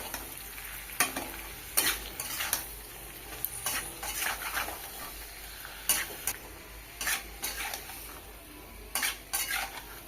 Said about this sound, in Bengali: পেঁয়াজ আদা রসুনের সাথে কচকচি অল্প কষিয়ে নিয়েছি।